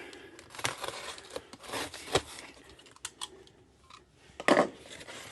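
Scissors snip and slice through plastic packaging wrap, with a rustling tear and several sharp crinkling cuts spread unevenly, close by and fairly quiet.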